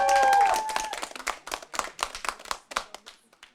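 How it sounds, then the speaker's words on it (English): A crowd in Paris applauds dancers at a Just Dance World Cup final, with dense clapping that starts loud under a short musical sting and thins into scattered claps. "can we have another a round of applause for these dancers who've been dancing all day here?"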